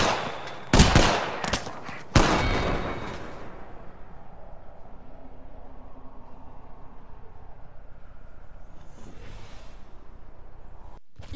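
Gunfire in Apex Legends: a few loud, sharp close shots in a quick burst, then a decaying echo and a low steady background hum.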